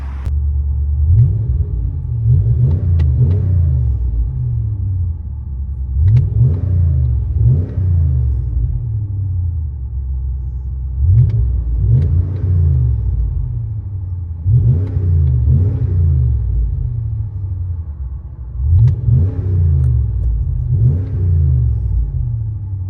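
Deep exhaust rumble of a Ram 2500 with a 6.4L HEMI V8 and a bottle-style resonator, heard from inside the cab, swelling in repeated revs every few seconds over a constant low drone.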